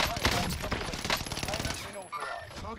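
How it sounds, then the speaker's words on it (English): Rapid video-game gunfire rattles in close bursts, sharp repeated shots over the first two seconds before easing off, with a voice talking over part of it. "Getting shot in the back."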